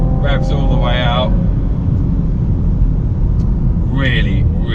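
Audi RS4 B9 engine revving out on a damp track, a steady loud in-car drone with rising rev sweeps, under continuous talk from the driver.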